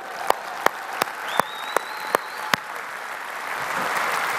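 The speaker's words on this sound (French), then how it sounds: "Alors une main d'applaudissement, non pas pour notre beau-maire, mais pour la mairesse, mesdames et messieurs." A handful of separate hand claps ring out for the mayoress at a town council evening event, about seven sharp claps spaced across the first few seconds before fading into room murmur.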